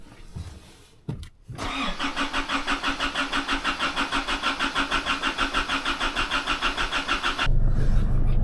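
An Isuzu 4JJ1 diesel engine cranks with a rapid rhythmic chugging, catches, and settles into a loud, steady running rumble close by.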